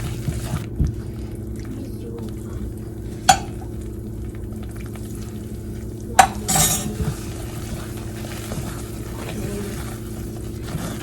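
Mysore Pak mixture is stirred in a pan with a utensil amid a soft sizzle, with a few sharp clinks of metal against the pan and light scraping.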